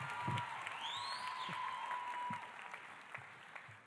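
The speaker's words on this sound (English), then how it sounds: "please give another round of applause" A high school graduation crowd applauds from a distance, a faint, steady spatter of clapping with a few louder thumps and a thin whistle-like tone rising above it.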